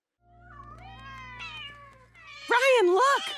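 Troublesome cats meow, first a few thin, rising cries and then a pair of loud, wavering drawn-out yowls up close, over a low steady hum in a cartoon scene.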